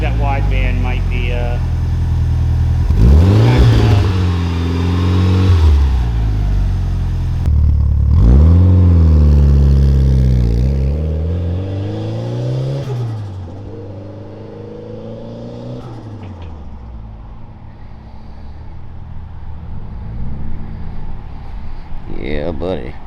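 A Mitsubishi Lancer Evo 4 engine with a full exhaust revs loudly and close by, in several sharp rising and falling bursts before it settles to a rough idle. People talk and react over the engine.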